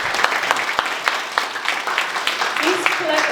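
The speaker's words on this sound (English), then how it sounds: "This clap is for Nalanda volunteers and TVCM volunteers" An audience applauds volunteers at a WACANA 2025 event, a sustained burst of many hands clapping in a hall, steady and fairly loud throughout.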